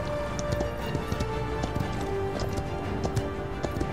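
A horse mount gallops in the video game Paladins, with quick, evenly repeating hoofbeats at a moderate level and no talk.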